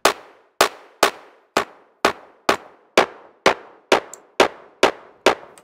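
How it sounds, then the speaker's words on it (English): Mechanical clap patch from the Logic Pro for iPad Drum Synth, twelve evenly spaced sharp metallic snaps, each with a short clanging ring-out, steady rhythm about two per second, clean and alone. "Mechanical clap."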